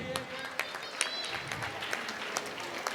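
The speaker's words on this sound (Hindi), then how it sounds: "जोरदार तालियां जाहिद सर के लिए" Scattered, fairly quiet clapping from an audience at a school annual day award ceremony, with individual sharp claps standing out irregularly over a soft background murmur.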